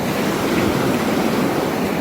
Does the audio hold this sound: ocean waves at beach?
yes